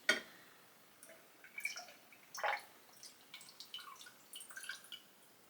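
Liquid mixed with shimmering luster dust is poured from a container into a glass, giving a few soft drips and light trickling splashes, faint and close, with no one speaking.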